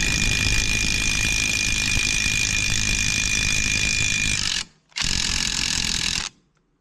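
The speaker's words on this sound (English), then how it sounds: "using my impact, which I do in fact own" A power impact wrench hammers on a rear suspension bolt in a garage: a loud, close, continuous rattling burst of about four and a half seconds, a brief pause, then a second burst of over a second before stopping.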